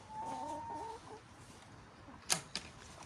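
Hens cluck softly in a backyard chicken run, a few low drawn-out clucks up close, followed by a couple of sharp clicks, with no talking.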